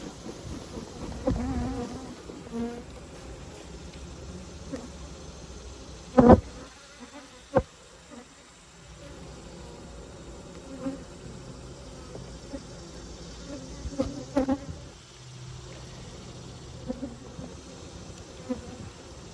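Bees drone steadily inside a crowded beehive, a continuous low buzzing hum broken by a few brief louder bumps, with no voices.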